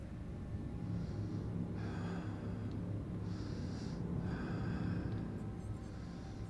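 Heavy, rasping breaths from the killer in Dead by Daylight, four slow breathy gasps in a repeating in-out rhythm over a low background hum, fairly faint.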